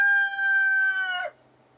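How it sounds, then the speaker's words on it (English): A rooster gives a single loud, close crow, a sustained bright call that holds steady before breaking off sharply near the end, followed by quiet. "When I got roosters, I thought they only did that in the morning."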